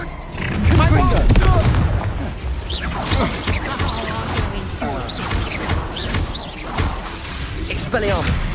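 Spell blasts like Bombarda and Confringo go off in Hogwarts Legacy combat as loud, dense bangs, crashes and whooshes packed close together. Voices call out over the constant barrage.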